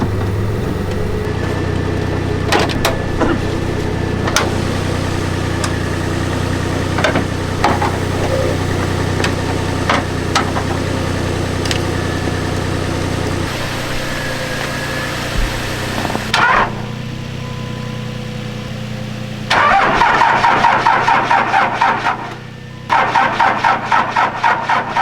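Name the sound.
old beater truck engine starting and idling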